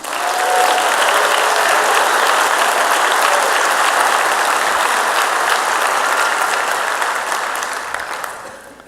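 Loud, dense applause from a large audience at a teacher appreciation event, holding steady for about eight seconds before tapering off at the end.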